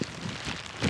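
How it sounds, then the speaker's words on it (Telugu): Heavy monsoon rain pours down steadily around people out at a pond picking fruit, with a close, dense hiss and a slightly louder swell near the end. "భలే వాన వస్తుంది తడిచిపోతున్నారు"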